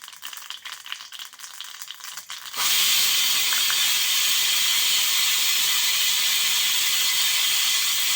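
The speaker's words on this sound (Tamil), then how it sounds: "கடுகு பொரிஞ்சிடுச்சு." Mustard seeds splutter in hot oil in a pan as an even, loud, close crackling hiss that starts suddenly after a quieter, rattling stretch and then continues without voices.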